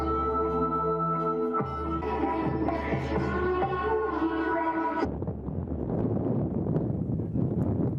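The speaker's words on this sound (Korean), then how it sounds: "강렬한 바람소리가 귀를 마비시킨다." Strong wind roars steadily at high altitude in the mountains around Shangri-La, a loud, continuous rushing that turns noisier and more buffeting partway through, with no voices.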